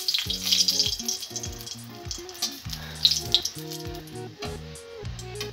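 Bay leaf and a dried red chili dropped into hot white cooking oil, a crackling sizzle with bright spits and pops under steady tonal background music.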